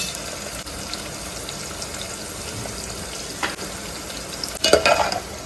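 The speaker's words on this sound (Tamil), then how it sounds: "வெங்காயம் நல்லா வதங்கட்டும்" Onions and curry leaves sauté in a pan for a fish curry. There is a continuous close sizzle, and a few stirring scrapes and clatters come near the end, with no voices.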